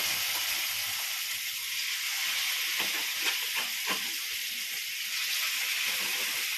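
Chicken pieces drop into hot oil and fry, a loud, steady bubbling sizzle held close throughout, with a few soft knocks and splutters midway.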